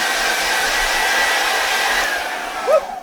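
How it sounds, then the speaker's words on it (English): A Conair hair dryer in a cruise ship cabin blows with a steady, loud whooshing hum, close by, then falters briefly near the end. "it's a Conair hair dryer"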